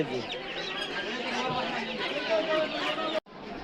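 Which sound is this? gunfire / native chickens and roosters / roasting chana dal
native chickens and roosters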